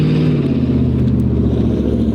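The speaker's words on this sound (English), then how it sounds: "That sounded like every car my uncle owns." A car engine revs hard and close by in a loud, steady, throaty drone with a rich low tone, alone and with no talking.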